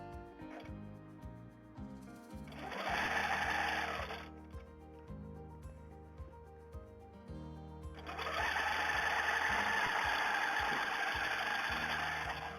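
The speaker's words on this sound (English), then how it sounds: "Now I can start my stitching back where I left off." A quilting sewing machine stitches a design with a steady mechanical whir and rapid needle chatter, running in two sustained passes separated by a quieter, slower stretch.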